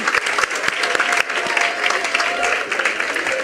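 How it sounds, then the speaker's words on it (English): A loud round of audience applause at a regional tourism youth congress, dense, steady clapping that fills the room from start to finish. "Give her a round of applause, ladies and gents."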